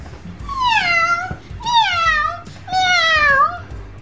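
A young girl imitates a cat, giving three drawn-out, whiny meows in a row, loud and close with short pauses between them.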